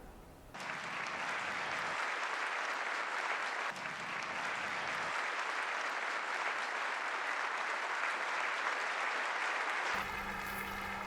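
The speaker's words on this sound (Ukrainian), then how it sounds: "Сьогодні на церемонії представникам українського народу аплодували стоячи кілька хвилин." A standing ovation fills the European Parliament chamber at the Sakharov Prize ceremony, with dense, continuous applause from a large audience that holds steady for about ten seconds before cutting off.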